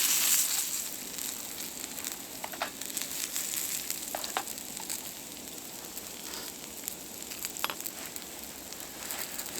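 Steak and potatoes frying in a restored hunters fry pan outdoors in the snow, giving a steady close sizzle with scattered crackles and pops throughout and no talking.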